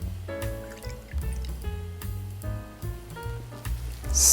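Gin, 50 ml, trickles and gurgles into a chilled cocktail shaker filled with ice for an Alaska cocktail, a close, continuous liquid pour with rising pitch and a louder splash at the finish.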